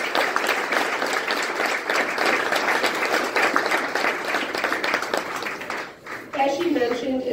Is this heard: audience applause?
yes